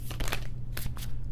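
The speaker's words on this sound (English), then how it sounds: "So let's do some initial shuffling and get it going." Oracle and tarot cards are shuffled by hand in a soft, papery flutter of riffles and quick slaps, repeated several times over a steady low hum, close by and without speech.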